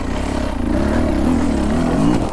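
A Beta 300 RR dirt bike engine revs continuously and loudly while the bike climbs uphill on sandy loam, its pitch rising and wavering under throttle.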